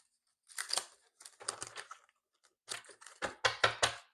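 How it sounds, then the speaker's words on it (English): Tarot cards being shuffled nearby in short, crisp bursts of riffling and flicking separated by brief pauses, quiet and with no voices over them. "One more shuffle here."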